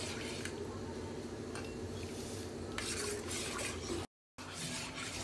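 Lemon water is stirred into hot milk in a pot to curdle it for a malai sandwich, a steady close scraping and swirling of a spoon against metal with a brief gap near the end.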